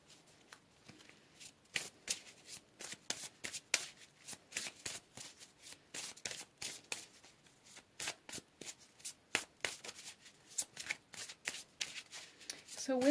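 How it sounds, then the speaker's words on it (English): Tarot cards being shuffled and pulled, a close, crisp run of quick riffling snaps and papery slaps in an uneven rhythm, quiet overall with no talk. "Let's go ahead and pull some more cards here."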